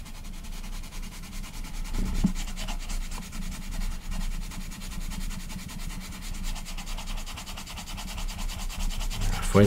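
Colored pencil shading on paper, a continuous close scratchy rubbing with firmer pressure, steady strokes and faint background noise, with no talking.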